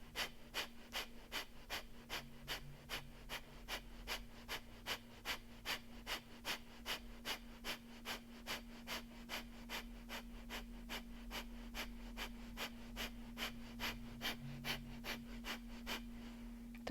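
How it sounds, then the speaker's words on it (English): Rapid, rhythmic forceful breaths pump in and out during a belly-pumping breathing exercise, about two per second and sustained evenly, fairly quiet and close, over a low steady hum, with no talking. "Keep breathing, keep pumping your belly in towards your spine."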